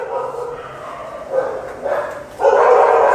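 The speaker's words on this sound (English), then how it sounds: "ये मेरे गली के बाहर से आवाज आ रही है कुत्तों की." Street dogs outside bark and howl in drawn-out, wailing bursts heard from indoors, growing louder and more sustained toward the end.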